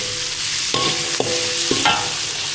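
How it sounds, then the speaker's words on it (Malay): Onions frying in a pan as a utensil stirs them, a constant sizzle with several distinct scraping strokes across the pan at an even pace, close and fairly loud with no voices. "Goreng kita goreng bawang besar tu masak."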